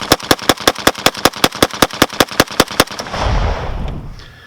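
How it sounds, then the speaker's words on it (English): An AKG rifle, an AK-pattern build, fires a rapid string of about fifteen sharp, evenly spaced shots over three seconds, loud and close, followed by a fading rumble. "I had the opportunity to examine and do a little shooting with an AKG rifle"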